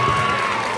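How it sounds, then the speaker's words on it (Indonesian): Students in a school hall burst into a dense, continuous wash of cheering and applause, loud and close, briefly filling the room. "Oke, tepuk tangan buat Cherry dong"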